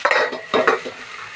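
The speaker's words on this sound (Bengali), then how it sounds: "নুন দেওয়ার পর আবারও এটা 2 মিনিট নেড়ে চেড়ে ঢাকা দিয়ে রাখবো।" Salted potato and bitter gourd being stirred in a pan, a few close scraping strokes of a utensil against the metal in quick bursts over a soft sizzle, then fading quiet.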